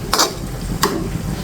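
A lid set on a cooking pot while shrimp cook with lentils and papaya, two short metallic clinks close by with a quiet pause between them.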